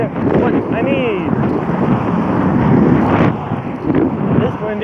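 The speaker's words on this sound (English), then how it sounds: "This wind is being a real pain." Strong wind buffeting a microphone outdoors on the road, a loud continuous rumbling roar with gusty swells and no pause.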